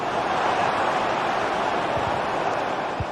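Dense, steady roar of a stadium crowd in a football video game featuring Chelsea players Enzo Fernandez and Madueke, a continuous wash of massed noise at constant loudness with no distinct cheers breaking through.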